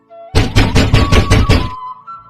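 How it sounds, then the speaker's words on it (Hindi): Six rapid, heavy knocks land on a bedroom door in an even rhythm, loud and close, with no voices over them. "लता के कमरे के पास जाकर दरवाजा खटखटाता है"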